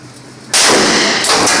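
A very loud gunshot cracks at an outdoor shooting range, followed by a sustained roaring blast and a second burst about a second later.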